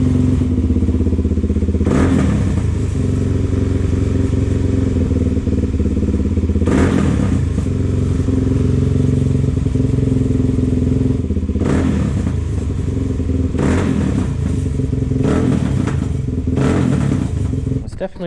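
A Suzuki DRZ400S dirt bike engine idles steadily and loud up close, a rough continuous thrum broken every few seconds by sharp popping backfires, with several bursts of crackle clustered toward the end.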